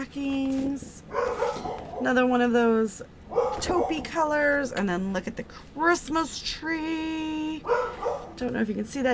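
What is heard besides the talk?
dog barking in the background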